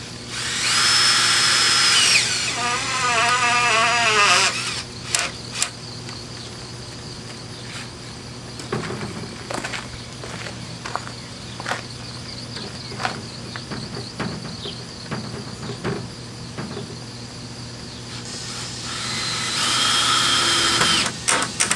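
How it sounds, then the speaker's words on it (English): A power drill drives 3-inch screws into a wooden screen door frame, with loud high-pitched whirring bursts at the start and end and a quieter stretch of clicks and knocks between. "Now I run a 3-inch screw down through here."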